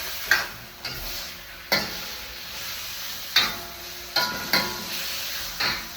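Food being stirred in a sizzling pan after a little sugar goes in, a spoon scraping and clacking against the pan in spaced, repeated strokes over a steady frying hiss, close and fairly clear.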